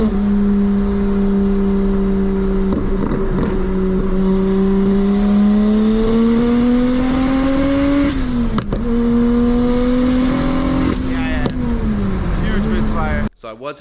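A 700 whp single-turbo BMW N54 car suffering misfire issues drives under steady, loud engine drone, its pitch rising and falling with throttle and gear changes, before cutting off abruptly near the end.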